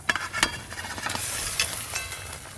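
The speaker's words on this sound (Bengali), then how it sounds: "ভেজে রাখা শোল মাছগুলো দিয়ে দেব।" Fried snakehead fish pieces slide into a pan of boiling gravy with green chillies, bringing a close sizzling hiss and a few soft splashes and clinks that settle into steady bubbling, with no voices.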